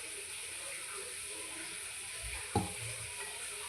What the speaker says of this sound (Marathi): त्यानंतर थोडंसं तूप घालायचं आहे यात मिश्रणामध्ये, तूप कमी वाटत असलं तर, आणि पुन्हा एकसारखं व्यवस्थित भाजून घ्यायचं आहे।